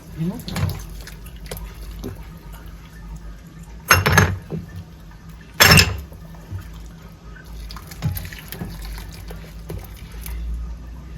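Hot water poured from a kettle over the burners of a gas stove, with a running liquid splash and two sharp metallic clanks of the burner parts partway through.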